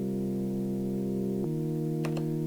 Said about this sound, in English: This one's like your more like one voice detune kind of pad.